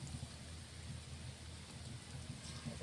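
Banana pieces frying in plenty of hot oil, with a steady, close bubbling sizzle and crackle that runs evenly throughout, no voices.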